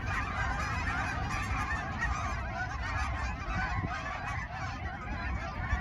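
Geese honk in a busy park, a dense, continuous chorus of overlapping calls, close and loud, with no voices.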